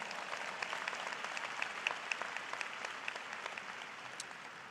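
A commencement ceremony crowd applauds in honor of members of the armed forces, a steady wash of clapping held at a fairly low, distant level throughout, with no voices rising above it.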